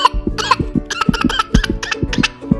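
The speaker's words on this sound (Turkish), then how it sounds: "Öksürmeniz lazım. Ben de sizi dinleyeceğim. Öksürün bakalım." A series of short coughs and throat sounds from a child playing doctor, close and fairly loud, coming in quick irregular bursts.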